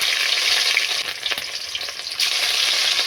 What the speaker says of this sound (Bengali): চচ্চড়িটা নামিয়ে মাছটা ভেজে নিচ্ছি।